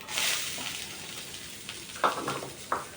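Onions and coriander seeds frying in a pan with chickpeas for a curry, a soft, faint sizzle with a few louder stirring bursts toward the end.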